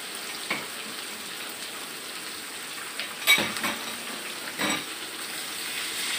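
Shrimp tossed into a wok with half-wilted green chili, galangal and lemongrass, giving a steady close sizzle of stir-frying with a few sharp clatters of a spatula against the pan.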